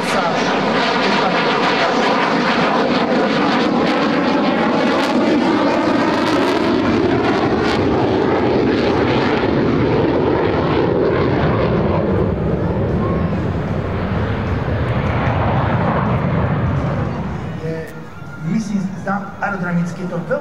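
Saab JAS 39D Gripen fighter jet of the Hungarian Air Force at an air show, a loud sustained engine roar sweeping past with shifting pitch before fading out, while a commentator talks over it throughout.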